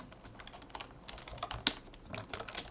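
Keys clatter on a computer keyboard in quick, irregular bursts of light clicks, fairly faint and close, with no voices.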